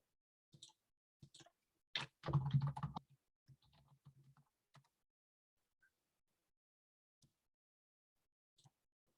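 Scattered keystrokes on a computer keyboard as a Google search is typed, with a denser burst of rapid clicking in the middle; quiet and close, with no talking.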